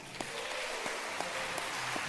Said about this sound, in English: You don't have to hold your applause, okay?